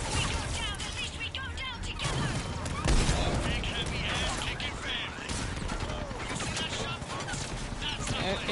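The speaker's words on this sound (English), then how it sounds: "Where is the shooting coming from?" Dense, continuous gunfire from a Mass Effect video game. Rapid shots and mechanical clatter overlap with other battle effects at a steady, fairly loud level for the whole stretch.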